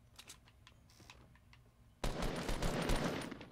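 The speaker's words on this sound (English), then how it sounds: "Shooting at the house" Rapid gunfire rattles at a house in the Fortnite video game. Soft keyboard clicking comes first, then a sudden burst of loud, dense automatic shots that carries on to the end.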